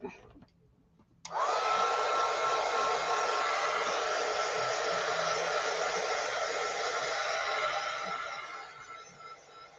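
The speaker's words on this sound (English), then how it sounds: "Let me hit these with the heat gun real quick because they're still a little wet." A heat gun switches on abruptly after a short quiet moment and blows a steady, loud, breathy hiss while drying wet glue, tapering off slightly near the end.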